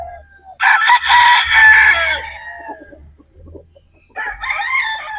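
Broodstag roosters crowing loudly and close, one long strained crow followed by a shorter second crow after a pause, with low rumbling background noise and no talk.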